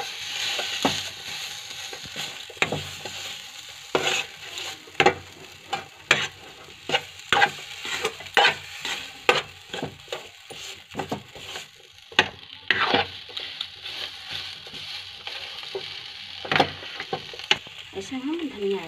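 Spiced vegetables with a little garam masala are stirred in a kadai, a spatula scraping in irregular bursts over a soft frying sizzle while someone talks over it.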